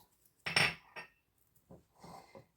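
Spoon scraping and clinking against a bowl while a yogurt and oil mixture is stirred for spinach kömbe dough, a few short close bursts with quiet gaps between.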